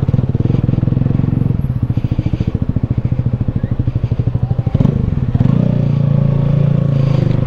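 A Yamaha NMAX 125 scooter runs steadily while riding, its engine a loud, close, pulsing drone with a slight shift in pitch partway through and some rattling clatter.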